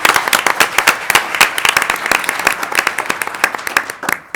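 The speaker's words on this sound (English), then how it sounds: "A round of applause for him," Crisp, close applause at a school board meeting as a small group claps rapidly and steadily for several seconds, with sharp individual claps standing out.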